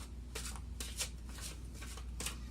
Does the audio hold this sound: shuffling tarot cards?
yes